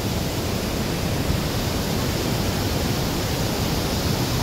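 Fast-flowing river current, a steady, loud broadband rush of water that stays constant and close throughout with no voices.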